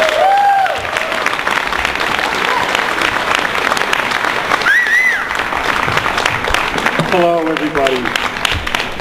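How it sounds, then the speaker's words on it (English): Audience applause fills a gathering after a performer is introduced, dense and steady clapping throughout, with a man briefly greeting the crowd at the end. "Ladies and gentlemen, a big round of applause"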